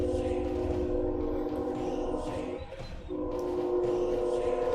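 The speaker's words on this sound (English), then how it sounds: "That's a very loud train." A loud train passes close by, a steady rumbling roar with sustained horn-like tones that briefly dip before swelling again.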